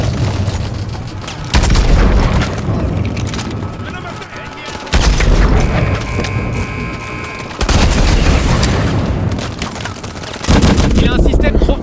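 Rocket launcher fire and heavy explosions aimed at a titan in the Call of Duty Advanced Warfare campaign, with loud repeated booming blasts amid continuous gunfire, under French-language voice dialogue.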